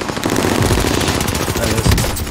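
Fast repeated pistol shots crack in a video game firefight, loud and close in a dense, rapid string of reports.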